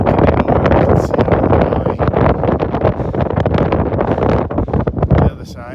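Cold wind buffets the microphone near a mountain summit on the Pacific Crest Trail by Tinker's Knob, loud gusty rumbling and flapping that fluctuates throughout and then drops off at the end.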